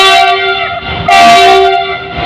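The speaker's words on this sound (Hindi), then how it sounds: "पीछे ट्रेन आ रही है, लेकिन ये हम लोग की ट्रेन नहीं है।" A train arriving at Izzatnagar railway station sounds a loud, sustained horn with strong harmonic tones, holding steady and then swelling again partway through, close and dominant with no talking.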